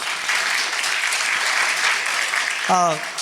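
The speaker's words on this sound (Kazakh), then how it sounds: "Бір шапалақ қошеметтер." Dense, continuous clapping from a stand-up comedy audience, a loud, even wash of many hands filling the room, with a voice cutting in near the end.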